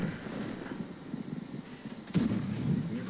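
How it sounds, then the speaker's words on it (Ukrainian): In a video game, a single heavy KV-4 tank cannon blast booms out midway over a constant low engine rumble, followed by a rolling echo. "зараз буде постріл"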